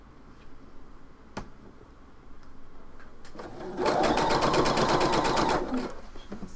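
Sewing machine stitching a shawl runs in one close, fast burst of rapid needle strokes for about two seconds near the end, preceded by quiet room noise, a sharp click and soft handling sounds.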